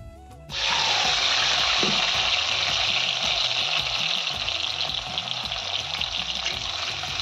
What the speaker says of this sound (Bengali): একটু তেলে ভাজা ভাজা করে নেব